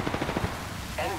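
A rapid burst of automatic gunfire in Apex Legends, then a short pause before another loud blast at close range, with a voice briefly speaking over it.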